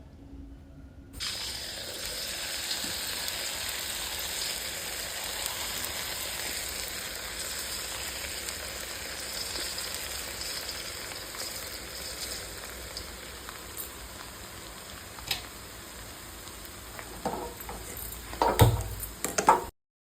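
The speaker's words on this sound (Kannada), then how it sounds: "ಇದನ್ನು ಎರಡೂ ಸೈಡ್ ಈ ರೀತಿ ಚೆನ್ನಾಗಿ ಫ್ರೈ ಮಾಡ್ಕೊಳ್ಳಿ" Small rounds of chiroti semolina and rice flour batter fry in a pan of hot oil with a steady, close crackling sizzle, a few sharper pops and clatters near the end; no one speaks.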